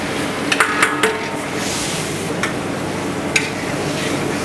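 Half-boiled squid tipped into a large cooking pot, producing a few metallic clanks and scrapes over a steady frying sizzle, close and moderately loud.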